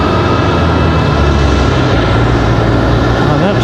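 American Airlines airliner arriving at Raleigh-Durham International, a loud, close engine roar sustained throughout with a low droning hum and shifting tones as it passes.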